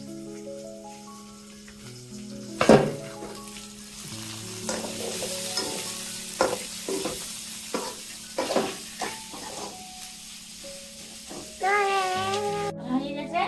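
Chopped tomato frying in a hot pan for a Bengali loitta fish curry, a steady sizzle broken by repeated scrapes and clacks of stirring, with brief bits of voice in the background.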